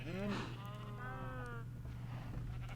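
Cow mooing in the Minecraft modpack Agrarian Skies, a short harmonic low call heard clearly over a steady low hum, moderately close and alone without talk.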